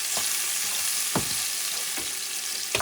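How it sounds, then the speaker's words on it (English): Onion sautéing over medium heat in a pan for caldo verde soup: a steady, even sizzle runs throughout, broken by four brief scrapes of stirring spaced about a second apart. "all I'm doing is sauteing this onion."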